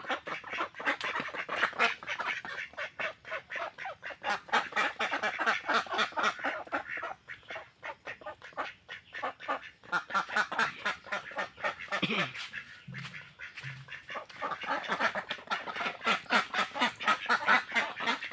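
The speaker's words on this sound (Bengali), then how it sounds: "অনেক ভয় পাচ্ছে হাঁসগুলো" A small group of domestic ducks, black and other colours including a male, quack rapidly and nervously in a rural yard, a dense, overlapping run of harsh calls close by throughout.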